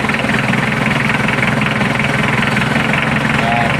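A Mitsubishi 4D56 diesel engine running after a shut-off valve fault is fixed: a continuous, close, rough clattering idle with a steady knocking vibration, loud and unbroken.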